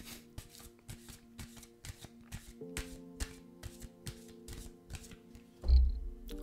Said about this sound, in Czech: Ještě vám tady vytáhnu jednu kartu.